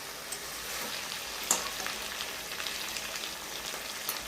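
Mutton kosha frying in a pan, a steady soft sizzle with light crackles and occasional stirring scrapes, moderately close and continuous, with no voices.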